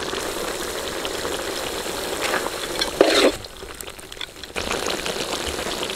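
Curry leaves hit hot oil in a jackfruit curry gravy, giving a constant close sizzle. A sharp burst of crackle comes midway, followed by a brief quieter spell as the frying settles, and then the steady sizzle returns.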